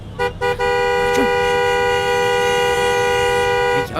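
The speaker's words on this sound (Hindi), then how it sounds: "अर्जुन तू हॉर्न बजा रहा है।" A car horn blares in one long continuous honk lasting several seconds, preceded by a few short taps, loud and close.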